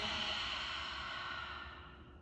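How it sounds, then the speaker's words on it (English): One long, deep, steady exhale during a yoga breathing exercise, close and breathy, slowly fading out over about two seconds, no talking. "Deep breath in here, and exhale."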